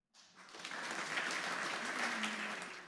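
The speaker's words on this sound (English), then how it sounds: "Applause for Roy Hodgson in Croydon's council on Monday evening." Applause for Roy Hodgson at a Croydon council ceremony awarding him the Freedom of the Borough, a short burst of steady indoor clapping from a gathered crowd that starts abruptly and holds at an even level.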